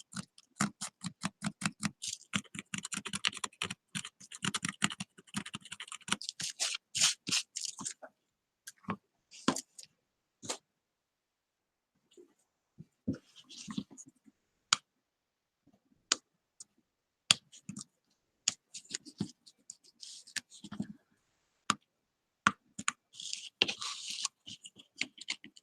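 Scraping burnt bits of plastic off wood-burned leather, a dense run of quick close scratchy strokes at first, then scattered short scrapes and clicks with pauses between.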